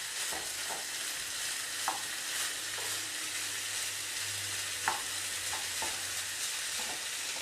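Rice being stirred in a hot pan while cooking kedgeree: a steady sizzle with soft scraping strokes and a few light utensil taps, heard alone at close range.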